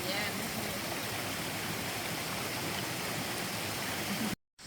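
A clear stream flowing through the Daintree rainforest, a steady broadband rush of water that cuts off abruptly near the end.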